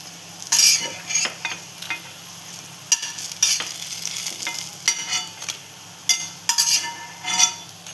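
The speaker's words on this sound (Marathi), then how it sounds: "ह्यांना पण आपण ह्यांच्यासारखंच फ्राय करून घेणार आहोत." Cabbage leaf snacks fry in a pan, a steady close sizzle broken by repeated stirring scrapes and light utensil clinks against the cookware, with no talking.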